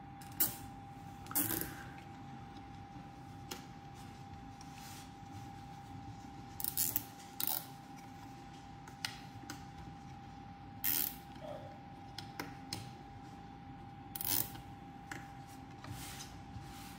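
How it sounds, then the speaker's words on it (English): Zip ties being pulled tight around a cooling fan and its stand, heard as faint, sparse ratcheting clicks and short creaks scattered over a steady low hum, with no talking. "what I'm doing with the zip ties is just putting it parallel with the fan base"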